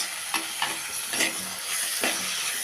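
Chopped medium tomatoes sauté in a pan with mint for jackfruit seed biriyani, a steady close sizzle broken by a few scraping stirs of a spoon, with no voices.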